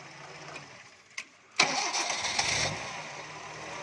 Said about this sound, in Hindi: ये आप देख सकते हैं जी किस तरीके से गाड़ी सलफ लगा रही है।